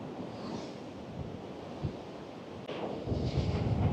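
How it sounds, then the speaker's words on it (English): Sea waves wash onto the beach at Cromer on the Norfolk coast on a windy day, a faint, continuous rumble of surf under wind noise that swells toward the end. "Now look at those waves, everybody."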